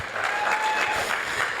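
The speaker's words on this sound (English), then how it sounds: "Give it up for Jadesola Aderodun, aka Lady. People should clap." An audience at a career fair applauds as the event's MC is introduced, a steady wash of clapping from a roomful of people that holds evenly throughout, with a faint tone running beneath.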